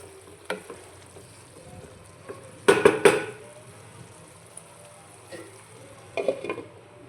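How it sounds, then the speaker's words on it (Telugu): A spoon stirs broad bean masala in a pan, making a few sharp clinks and scrapes at intervals over a faint background, without talk. "ఒకసారి మొత్తం అంతా బాగా కలుపుకొని ఒక 2 నిమిషాలు మగ్గించుకొని స్టవ్ ఆఫ్ చేసేసుకోవడమే."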